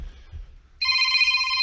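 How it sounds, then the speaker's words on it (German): A telephone bell begins ringing abruptly after a low rumble, a bright, continuous trilling ring that is loud and close. "Telefon!"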